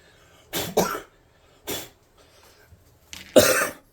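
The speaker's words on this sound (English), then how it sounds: "You would think I inhaled baking soda, but I'm actually just coughing." Three separate coughs, close and fairly loud, the last one the strongest and longest, with quiet pauses in between.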